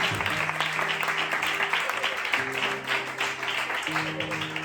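A church congregation applauding in praise, a steady wash of clapping throughout, with sustained tones, likely an organ or keyboard, and a voice sounding over it.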